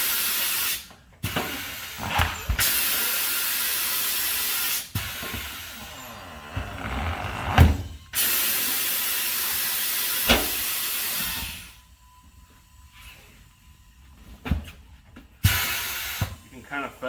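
Compressed air bursts hiss loudly from an SBM 988 tire machine in a shop, several long sustained blasts separated by short pauses and quieter stretches, close up.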